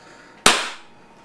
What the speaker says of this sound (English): Freaky loud shot.